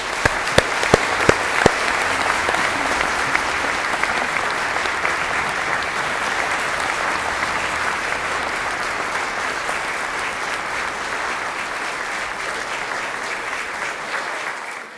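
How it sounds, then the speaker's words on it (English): Sustained applause from an audience celebrating new graduates at a postgraduate academic awards conferring ceremony, dense steady clapping throughout with a few louder distinct claps at the start, full and continuous. "join me in offering a round of applause to our new graduates"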